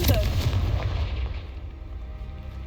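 A Confringo fire spell blast in Hogwarts Legacy: a sharp, booming explosion right at the start that rolls off into a fading rumble over the next couple of seconds.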